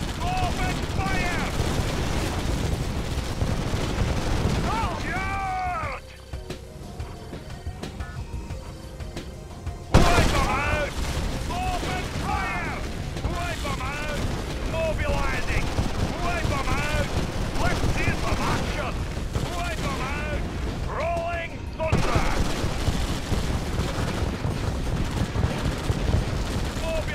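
Rapid bursts of gunfire and explosions from battling units in the real-time strategy game Red Alert 2: Yuri's Revenge, repeated crackling volleys with sharp onsets, mixed with short unit voice lines over steady battle noise.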